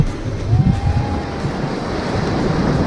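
Strong ocean waves wash against the shore of Colibra Island in Tambobong, Dasol, rumbling in a steady broadband roar with buffeting wind noise on the microphone and a brief faint tone partway through.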